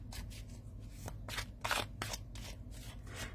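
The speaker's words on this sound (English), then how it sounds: "give them a shuffle." A deck of heavy cardstock tarot cards is shuffled up close: a quick run of crisp riffling and flapping bursts with no voices.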